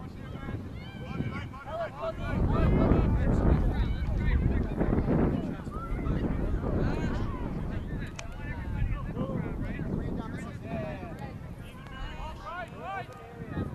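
Strong wind buffets the microphone at an outdoor high school ultimate frisbee game, a steady loud rumble and gusting roar throughout, with commentary and distant voices from the field mixed underneath.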